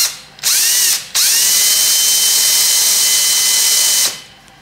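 A power drill bores a 6.5 mm hole in a bracket for a carbon fibre collet rack, whining loudly in two bursts: a brief spin-up, a pause, then a sustained steady run before winding down.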